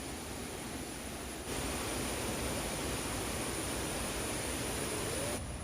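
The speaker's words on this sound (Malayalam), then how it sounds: "ഇതാണ് ഏഴുനിലക്കുത്ത് വെള്ളച്ചാട്ടം." Rushing water from Ezhunilakuthu waterfall, a broad, even hiss of falling water that swells louder after the first moment and holds steady and constant, heard alone with no voices.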